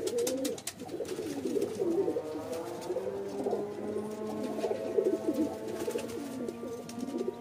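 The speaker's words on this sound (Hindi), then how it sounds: "ये कबूतर है भाई" Pigeons coo steadily in low, rolling, repeated calls, close and continuous over several seconds with light background noise and no talk.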